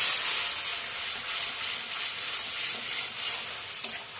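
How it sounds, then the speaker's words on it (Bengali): Fish curry with mustard paste, green chillies and turmeric frying in a pan and being stirred gives a steady bright sizzle and hiss, close and continuous, with a small clink of the utensil near the end. "দেখো দিয়ে এটাকে আমি ভালো করে নাড়িয়ে নিচ্ছি।"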